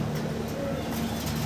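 Pigeons kept in a loft for sale cooing softly in low repeated tones, a steady murmur of several birds close by with no clear speech.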